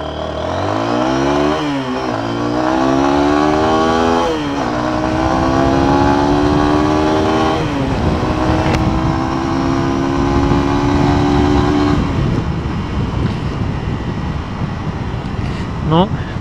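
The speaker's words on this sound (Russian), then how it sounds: "давайте сейчас посмотрим приблизительно его разгон до сотни" A Lifan KPR200 motorcycle accelerates hard on a test ride, its engine pitch climbing through several gear changes in a loud, close rising whine over wind noise, then settling to a steady cruise.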